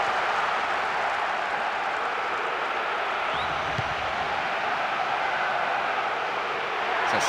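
A stadium crowd in the Winning Eleven 2008 football game keeps up a steady, distant roar of cheering and noise, a broad wash of sound that holds constant without any voices on top.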